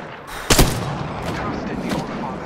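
Gunfire sounds in Apex Legends on console: one sharp loud shot, followed by fainter shots against steady game background noise.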